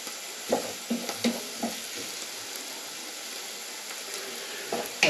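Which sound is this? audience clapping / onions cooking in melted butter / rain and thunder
onions cooking in melted butter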